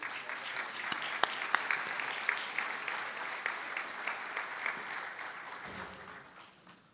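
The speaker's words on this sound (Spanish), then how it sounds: "Fuerte el aplauso para Raúl Hermida." Conference audience applauds after a speaker is introduced at a talk on the Paraná-Paraguay waterway, with steady dense clapping throughout that thins near the end, and no one speaking over it.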